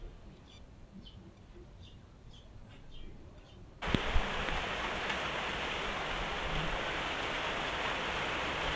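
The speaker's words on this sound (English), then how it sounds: "Raindrops falling." Raindrops fall in a steady, dense patter that starts abruptly partway through after a quieter stretch with faint bird chirps, then continues loud and even as a broad hiss to the end.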